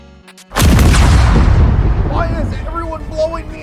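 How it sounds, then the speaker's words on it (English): Explosions and gunfire in a video game: after a brief quiet lead-in, a loud sudden blast erupts and rolls on as a sustained roar, with fainter whistling and tonal game effects trailing through the end. "That is like the third explosion or gunshot since start of stream."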